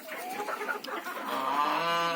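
Hens let out into their run cluck and chatter in a steady, close murmur of overlapping calls, rising into a drawn-out squawk near the end.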